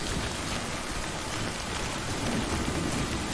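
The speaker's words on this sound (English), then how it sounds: "I guess I just have to deal with the rain for now" Heavy rain pours steadily in the Death Stranding video game, a dense unbroken hiss with a low rumble of thunder underneath, loud and close throughout.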